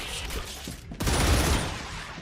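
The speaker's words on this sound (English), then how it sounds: "Changing mags." Gun magazine being swapped in the sci-fi survival game StarRupture, a brief mechanical clack followed by a loud, dense burst of gunfire-like noise from about one second on, with no talking.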